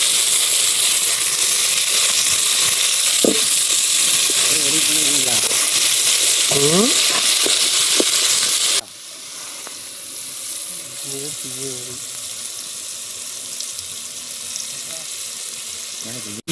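Chopped tomatoes fry in hot oil in a pan outdoors in a forest, a loud steady sizzle and hiss with stirring scrapes, and people talk over it. Partway through, the sizzle drops to a softer, bubbling fry.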